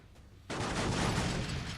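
Enemy gunfire in the video game XCOM 40k Astra Militarum erupts abruptly after a quiet moment, becoming a loud, dense, sustained barrage of shots that fills the rest of the clip.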